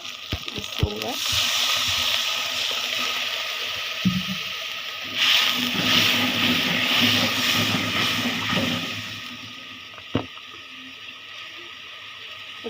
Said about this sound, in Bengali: পানি দিয়ে দিই নয়তো মশলাটা পুরো যাবে